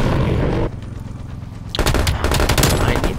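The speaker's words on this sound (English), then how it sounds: "I know right now I'm in the middle of war and there's a guy shooting." Rapid automatic gunfire in Call of Duty: Black Ops Cold War, loud, dense bursts of shots and booms that briefly ease, then resume harder, with a voice faintly mixed in.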